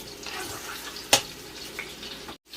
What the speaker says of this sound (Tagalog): Tayo lang natin na maluto ng bahagya yung bawang natin para kumagat sa ating pakbet.